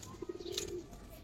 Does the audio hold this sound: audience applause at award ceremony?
no